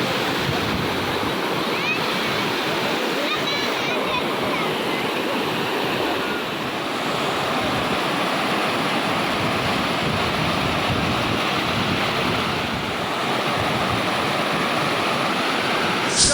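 Water rushes and churns continuously at Droneshwar Mahadev temple in Gir Gadhada, where people bathe, a steady, loud, dense roar with no pauses.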